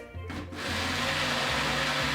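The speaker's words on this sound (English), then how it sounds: "Take out your squash and put it into a blender." A kitchen blender whirs loudly and steadily as it purees boiled squash for Haitian soup, starting up after a brief click and running nearly alone.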